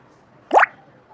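A single soft wet plop as ground coconut paste drops into cooked green gram dal, brief and close against a quiet background.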